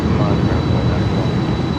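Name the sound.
LATAM cargo plane taking off in Miami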